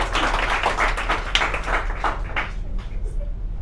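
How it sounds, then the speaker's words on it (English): Audience applause from a New York crowd after volunteers take part in an exercise: dense, steady clapping that stays loud and fairly close before thinning out toward the end. "Round of applause first for them for participating in a weird New York exercise."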